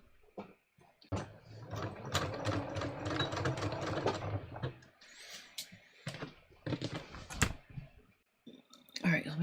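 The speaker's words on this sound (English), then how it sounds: "I'm literally going to put the fabric under the presser foot where I have it pinned. And I'm going to stitch on the line that I drew." A sewing machine stitches pinned fabric along a drawn line while taking in a waistband, a close run of rapid mechanical clatter lasting a few seconds, followed by scattered clicks and short bursts, with talk around it.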